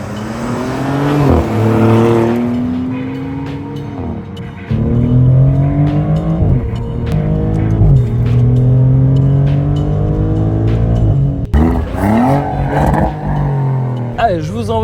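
Maserati GranTurismo Trofeo sports car driving from the cabin, engine loud and continuous as it revs up through repeated gear changes with rising and dropping pitch, while someone talks over it.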